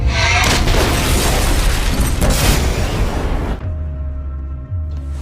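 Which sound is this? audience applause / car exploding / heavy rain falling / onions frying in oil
car exploding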